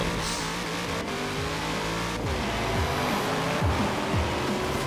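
A C8 Corvette roars off the line in the racing game Forza Horizon 4, its engine loud and continuous, with pitch climbing through rising revs and dipping at gear shifts. No voices are present.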